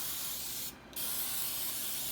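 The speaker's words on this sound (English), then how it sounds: "both of them get sprayed with some baker spray" Baking spray hisses steadily from a can into loaf pans, a close continuous spray broken by one short pause before resuming.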